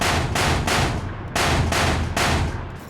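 Rapid automatic fire from an MPX submachine gun in the video game World War 3, loud close bursts of several seconds broken by short pauses, with no talk over it.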